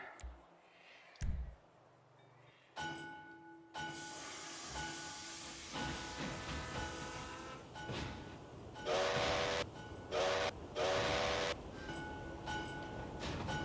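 A train in a video game, heard as a steam hiss, a long horn blast and rolling mechanical running noise, loud and close with bursts of tonal whistle near the end.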